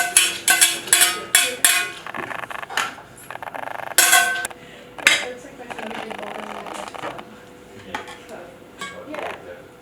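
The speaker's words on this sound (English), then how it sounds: "now I'm just plating up the yellow and orange vegetables" Plates and pans clink and scrape while yellow and orange vegetables are plated for a turkey dinner, with a quick run of sharp clatters at first, then sparser knocks. A voice talks over the clatter.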